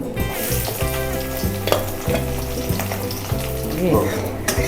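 Sliced onion sizzles and crackles in hot oil in a wok for chowmein, a loud, continuous frying hiss with occasional stirring scrapes.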